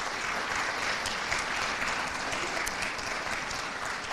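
Sustained applause from an audience at an organization's 50th anniversary celebration, steady and fairly loud throughout with no voices over it.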